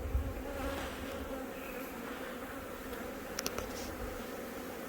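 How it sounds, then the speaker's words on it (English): Honeybees hum in a steady, soft swarm drone during a nuc transfer into a new hive box, a continuous buzz with a few clicks and small bumps near the end and no talk. "So these bees obviously are still newbies."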